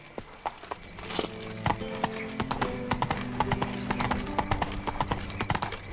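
Hooves clop rapidly as a horse gallops in The Witcher 3: Wild Hunt, a dense, close rhythm of hoofbeats running steadily over a low rumbling background.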